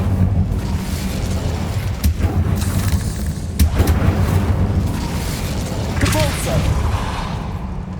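Bombarda and Incendio spell blasts in the video game Hogwarts Legacy, heavy booming explosions and whooshes over a dense, continuous battle din, with shouted voices mixed in.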